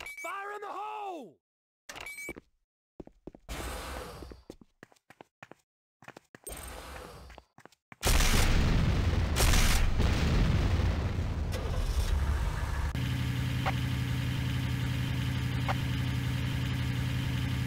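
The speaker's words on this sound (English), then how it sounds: "C4 is set. C4 is set. Fire in the hole!" C4 explosive detonating in the Renegade game, a sudden loud blast partway through that gives way to a sustained roaring rumble and engine-like drone, after spoken lines and scattered game sounds.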